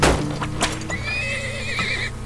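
A horse whinnies in the video game Turmoil, a near, rising-and-falling neigh with a short clip-clop of hooves and small game sounds before it, all alone without talk.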